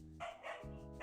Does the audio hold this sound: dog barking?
yes